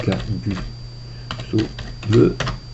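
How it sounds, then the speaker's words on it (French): A computer keyboard is used to type a password, giving a scattered series of light key clicks at close range, with a voice heard alongside. "Donc je tape mon mot de passe"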